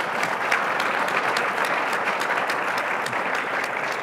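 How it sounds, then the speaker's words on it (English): Dense, steady audience applause fills a hall after a marriage talk, continuous and fairly loud clapping throughout with no speech. "Round of applause if it was helpful."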